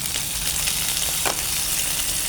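Pork frying in a pan with kimchi added gives a loud, dense, continuous sizzle with a short burst of crackle partway through, and no voices.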